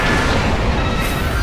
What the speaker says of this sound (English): Hopefully gets caught in some of the explosion.